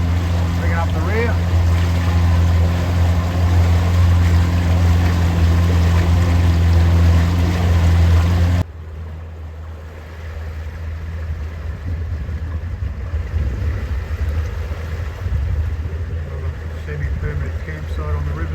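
Motorboat cruising on the Murray River at about 2400 revs, a steady close engine drone with water rushing along the hull, abruptly dropping to a quieter, washier wash and engine hum partway through.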